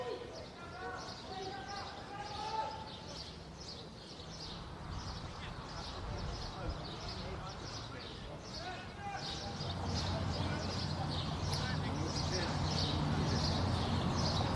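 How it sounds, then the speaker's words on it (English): Birds chirp in repeated high tweets across an empty football stadium during an international friendly between the Netherlands and Uzbekistan, steady and moderately clear, with a commentator talking and faint thuds of play underneath. "not often you can hear the chirping of birds over any crowd noise"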